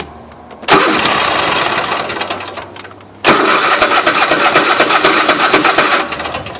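Gas lawn mower engine running briefly on residual fuel with an empty tank, loud close buzzing that kicks in, drops out for a moment, then catches again and runs steadily.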